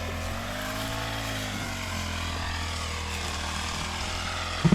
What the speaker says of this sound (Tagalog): Grass cutter operator.